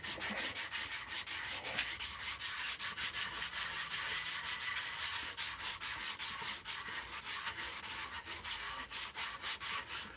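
Wood being hand-sanded with 120 grit sandpaper, a close, continuous scratchy rubbing in quick repeated strokes, steady in loudness with no voices.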